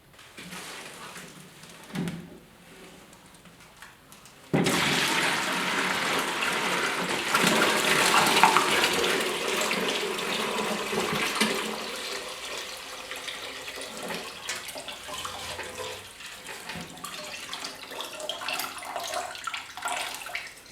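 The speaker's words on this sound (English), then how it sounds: "Pretty well fills this bucket right up." Liquid pours steadily from a Yamaha RS 100 fuel tank into a bucket, a continuous splashing gush that starts abruptly after a few quiet seconds and runs loud and unbroken to the end.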